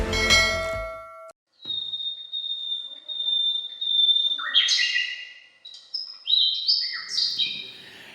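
Several birds chirp and sing in bright, high, varied calls, starting after a brief low rumble and growing busier toward the end, with quiet ambient background between notes.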